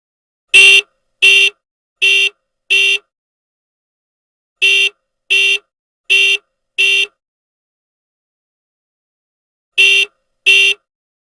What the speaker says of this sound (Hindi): कह रहे कब से हॉर्न तू बजा रही थी?